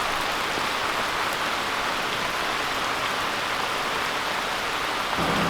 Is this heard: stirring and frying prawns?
no